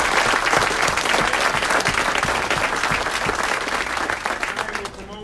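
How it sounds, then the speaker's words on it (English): Dense, sustained audience applause fills a city council meeting for the Aurora Police Department, loud and steady throughout before easing slightly near the end. "Let's give a big round of applause for the finest force."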